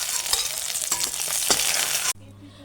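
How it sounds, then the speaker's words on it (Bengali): Fish frying in hot oil in a pan, a loud, close, busy sizzle with crackles and a few stirring scrapes, cutting off abruptly near the end. "এইভাবে সমস্ত মাছগুলোকে ভেজে নেব।"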